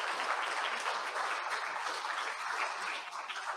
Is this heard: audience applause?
yes